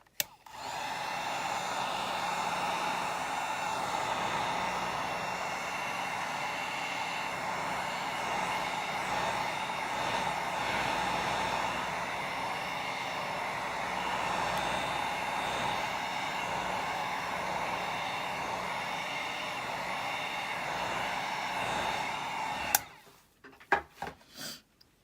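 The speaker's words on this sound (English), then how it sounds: "I'm going to hit this one with my heat gun too" A heat gun blows steadily on acrylic paint in a dip-technique piece, its broad whooshing roar holding level and close for over twenty seconds before cutting off abruptly, followed by a few faint clicks.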